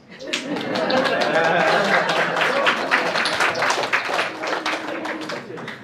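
Audience at a book launch clapping, a warm burst of applause that swells quickly and gradually thins out, mixed with some laughter.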